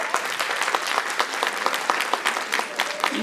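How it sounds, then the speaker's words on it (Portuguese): Applause from a lecture audience, a steady wash of many hands clapping with a few louder claps standing out, moderately loud and carrying on without talk for about three seconds. "Uma salva de palmas para Glau."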